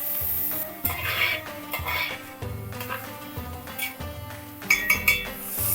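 Ginger and garlic paste stirred into dried keema in a pan, with a spoon scraping and clinking against the metal in irregular strokes over a soft sizzle, close and fairly quiet.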